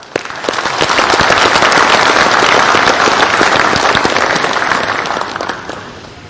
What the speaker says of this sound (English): why don't you and me join hand and give clap and appreciate a woman amongst us.